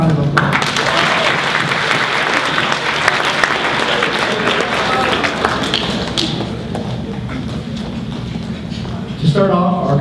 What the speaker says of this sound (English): Let's give our judge panel another round of applause.